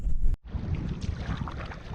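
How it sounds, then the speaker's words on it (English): Kayak on open water near Drummond Island in strong wind, with steady wind buffeting the microphone and low rushing water noise throughout, broken by a brief dropout near the start. "we're still paddling, and the wind has picked up substantially"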